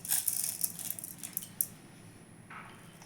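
Sugar tipped from a measuring cup into cooking semolina for a sweet, a bright scattered grainy rattle over the first second and a half, then fading to a quiet simmering hiss with a brief soft rustle near the end.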